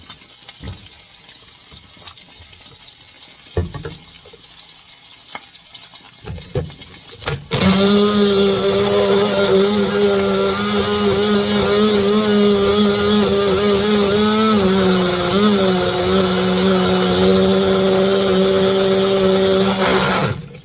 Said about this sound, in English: Okay, so we're going to blend this out now.